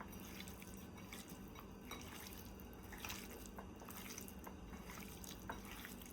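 Tap water rinsing a salted fish fillet in a kitchen sink, a steady close hiss of running water with soft splashes and drips throughout, no voices.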